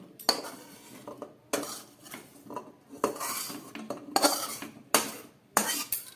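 Fried taro and potato pieces go into a pressure cooker, giving separate metallic clanks and scrapes of a spoon against the pot, which come irregularly and close up with short quiet stretches between them.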